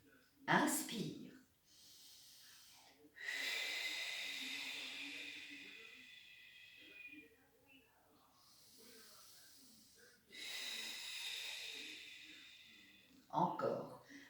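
Slow, deep breaths in and out during a Pilates roll-up exercise, long airy hisses of exhalation and inhalation close to the mic, with short bursts of spoken instruction at the start and end.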